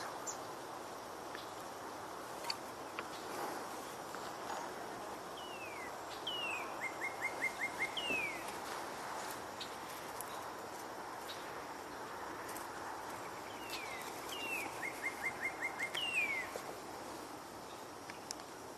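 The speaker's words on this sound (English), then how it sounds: "I wouldn't mind seeing that cardinal sing" A northern cardinal sings from a perch overhead on an outdoor walking tour, two clear phrases of slurred whistles ending in rapid trills, moderately near over a steady wash of insect drone and other distant birds.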